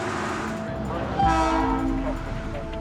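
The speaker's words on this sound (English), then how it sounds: "At Waltham Yard, team leader Devon guides the train every night to this special siding." A train horn sounds as a train rolls into a siding at a rail yard, the blast rising midway over steady rumbling wheels, close and loud, with no talking.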